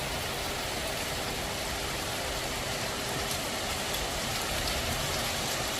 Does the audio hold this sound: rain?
yes